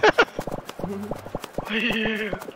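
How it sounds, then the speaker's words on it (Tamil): Galloping horse in the video game Fall Guys, quick rhythmic hoofbeats in bursts, with talking and a brief sustained tone over them. "அவர் குதிரை ஓடுது பாருங்க"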